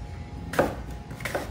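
An apple being cut for apple juice gives two short, crisp knife thuds against a board, close and isolated over low background hum.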